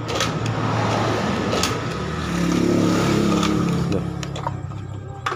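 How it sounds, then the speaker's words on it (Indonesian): A Honda Beat FI scooter with an ECU error starts up close by, idles with a rough buzzing drone, then briefly swells in a rev before settling back, with no speech. "Berikut coba oke kita hidupkan coba motornya"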